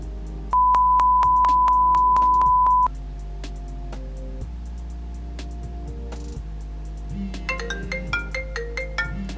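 A home phone places a test call to a DROID Turbo 2 smartphone: a steady dial tone, then a short run of dial beeps, then a rising series of ringtone chimes, all loud and close.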